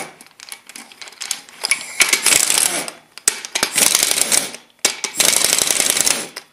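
Bursts of rapid clicking from a ratchet loosening the center bolt near a thrust bearing, three dense runs of a second or so each separated by short pauses, close and fairly loud.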